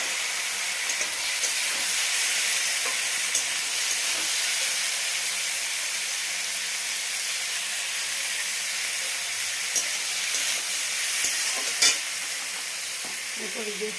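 Chopped tomato and green chili frying with onions in oil for a silver carp curry, giving a steady loud sizzle and hiss that runs unbroken, with occasional faint stirring clinks.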